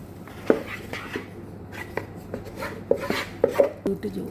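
Brownie batter with coffee powder, flour and melted chocolate stirred in a bowl, giving repeated scraping and knocking strokes of a utensil against the sides at close range, irregular in rhythm, with no talk.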